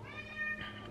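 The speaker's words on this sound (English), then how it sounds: "the cats are back." A cat meows once, a short rising-and-falling cry close by, over a low steady hum.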